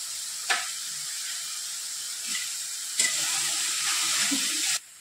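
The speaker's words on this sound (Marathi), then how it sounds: "पाच ते 7 मिनिटं आपण ह्या भाज्या परतवून घेतल्या." Mixed vegetables with crushed garlic paste sauté in a hot pan, giving a steady, close sizzling hiss. A few brief clinks of stirring cut through, and the sizzle is heard alone, without any talk.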